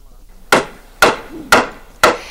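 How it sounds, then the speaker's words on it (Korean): Four sharp, evenly spaced hammer blows ring out close by, about half a second apart, as an 84-year-old woman builds a wooden boat by hand. "뚝딱뚝딱 망치질이 한창입니다."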